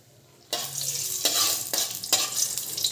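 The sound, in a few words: dried red chillies sizzling in hot oil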